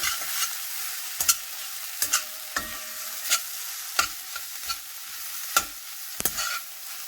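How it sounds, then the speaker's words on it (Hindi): Chilli and black pepper are stirred into a rusk pizza topping, a low, steady hiss with sharp spoon clicks against the pan at irregular intervals, close and without speech. "इसको अच्छे से मिक्स करेंगे"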